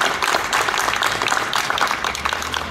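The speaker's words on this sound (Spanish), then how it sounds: "Un aplauso." A crowd at a political campaign rally claps steadily and fairly loudly for a few seconds, a dense even wash of hand claps with no break.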